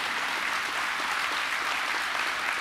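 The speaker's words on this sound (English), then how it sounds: "That would be a good time to applaud while I get myself together a little bit." Church congregation applauding during a sermon, an even, continuous patter of many hands at moderate volume with no voices over it.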